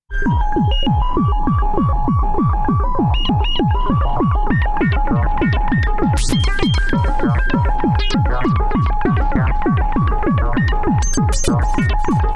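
A semi-modular synthesizer voice played by a PO 400 sequencer, steady pulsing notes repeating in a fast rhythmic pattern, loud and close throughout with no one speaking.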